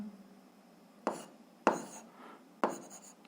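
Chalk or marker writing on a board during a physics lesson, three short scratchy strokes with quiet pauses between them and no talk.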